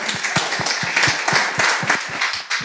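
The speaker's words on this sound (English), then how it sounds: "give our men a round of applause." A live audience at a World Hypertension Day cooking demonstration in St. Kitts gives a brisk round of applause, many hands clapping in a dense, steady patter close by, with no speech over it.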